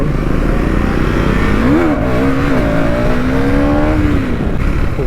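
A motorcycle with a misfiring engine is being ridden on a road. Its engine drones loudly and continuously up close, with the pitch climbing and falling as it revs. No voices are heard.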